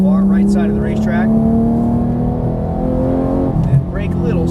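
A Porsche GT3 accelerates hard on a racetrack, engine pitch climbing steadily and loud from inside the car, then dipping briefly at a shift while a voice talks over it.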